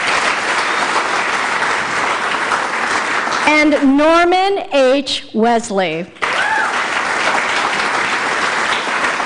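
An audience claps continuously for laureates at a business hall of fame ceremony, a loud, steady wash of applause while a man announces a name over it.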